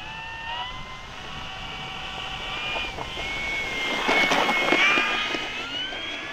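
Electric motor of an E-flite P-51D Mustang 1.5m RC plane whines during takeoff, a steady rising tone heard outdoors at moderate distance with some wind noise.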